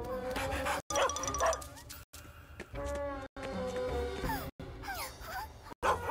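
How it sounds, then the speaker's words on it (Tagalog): A cartoon service dog barks and yips repeatedly in quick bursts, with whimpering tones, broken by short silent cuts. "Isang aso na serbisyo!"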